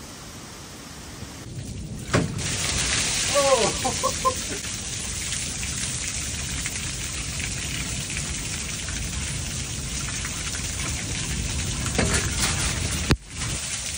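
Steady, heavy storm rain roars continuously over a cornfield, with a couple of sharp cracks and a brief voice exclaiming partway through.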